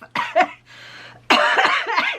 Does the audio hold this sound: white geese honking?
no